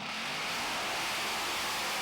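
A Class 6 mud drag truck with a Keith Black Hemi engine makes a dense, steady roar throughout at the Wheel Jamboree mud drags in Lima, Ohio.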